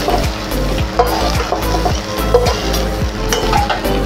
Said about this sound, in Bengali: এই তেলেই তারপরে আলু আর কচুটা ভেজে নেব।